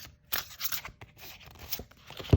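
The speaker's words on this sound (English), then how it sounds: "I shuffle hand over hand." Oracle cards are shuffled hand over hand, giving close, soft papery swishes and light scraping slides in short irregular bursts, ending in a sharper tap.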